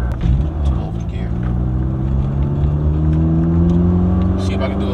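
A turbocharged Honda Civic Si pulls hard through the gears on a street, its engine note climbing steadily in pitch with a loud, close, continuous drone and turbo whir.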